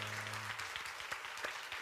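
A church congregation claps in praise of God during a worship service, a faint, scattered round of applause heard from a distance, with a held musical tone fading out at the start.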